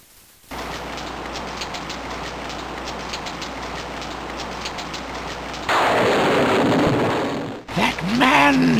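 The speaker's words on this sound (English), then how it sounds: "It starts to rain." Steady rain pours in the video game King's Quest VI, a dense continuous hiss that jumps louder partway through and then cuts off, followed by a short tonal sound.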